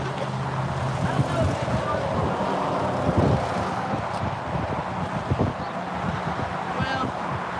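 Outdoor wind buffets the microphone at a church protest, producing a steady low rumble throughout. Occasional bumps and handling noises break through, along with faint background sounds.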